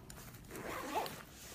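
A range bag zipper being pulled open, one short, quiet rasping zip heard close up with nothing else around it.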